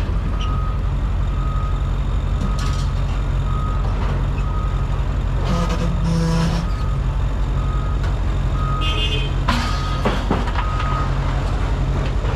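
Scrap yard claw truck reversing, its steady high backup beeps repeating over a constant low diesel engine rumble, with brief metallic clanks and air-brake hisses nearby outdoors.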